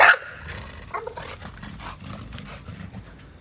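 A dog gives a sharp, loud bark right at the start, followed by rougher growling or snarling noises that continue at a lower level in the background.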